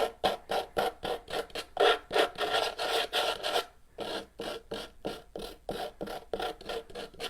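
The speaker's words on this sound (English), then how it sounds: "So there's a light sanding to show a little bit of distress there" Rhythmic back-and-forth rasping of sandpaper on wood, close and steady, with quick strokes that briefly pause before resuming.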